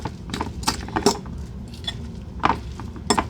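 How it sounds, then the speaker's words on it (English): A metal fork clinks and scrapes against a dish while stirring tomato sauce with cheese, several sharp irregular taps and scrapes close up over a quiet kitchen background. "I'm gonna use my fork again just to stir it."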